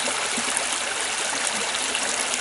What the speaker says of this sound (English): This little creek that's running, which is gorgeous.